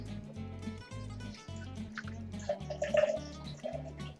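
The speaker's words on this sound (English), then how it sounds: "Then we pour some of our drink." Punch pours and trickles into a glass for a few seconds, with soft splashing and a low rhythmic hum underneath.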